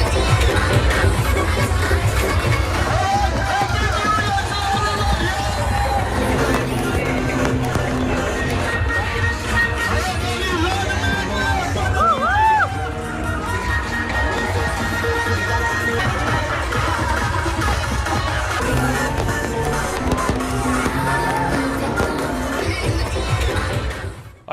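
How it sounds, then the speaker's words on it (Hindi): A dense crowd of New Year tourists in Goa fills the air with a steady, loud wash of many voices, movement and music-like tones, continuous throughout with no single speaker standing out. "आइए अब आपको लिए चलता हूं गोवा, जो सबसे ज्यादा भीड़ और रश जहां रहता है पर्यटकों का, सैलानियों का नए साल के मौके पर"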